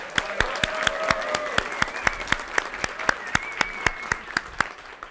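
An audience at a Python talk for Mac admins claps as a dense wash of applause, with one pair of hands standing out in loud, regular claps close by.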